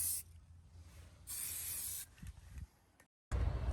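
Spray paint hisses from an aerosol can onto a masked-off memory orb in a few separate close bursts, one short and one longer, with quiet handling noises between them.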